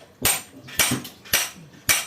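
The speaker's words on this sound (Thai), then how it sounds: "ค้อนทุบเลยนะครับ เสร็จไวแป๊บเดียว" Hammer striking a copper water pump motor during scrapping, four sharp metallic blows evenly spaced about half a second apart, close and loud.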